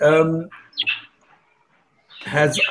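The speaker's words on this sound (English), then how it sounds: "the sound of the birds is actually quite irritating all the time" Birds chirping in the background of a caller's microphone during an online discussion, with a couple of brief high chirps between bursts of a person talking.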